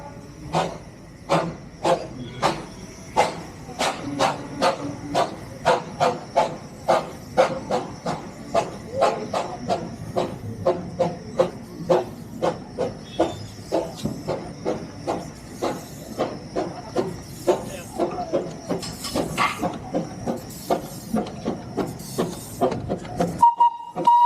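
The steam engine of the Darjeeling toy train chuffs in a strong, regular rhythm of loud hissing exhaust bursts, close and sustained, with a brief whistle-like tone at the very end.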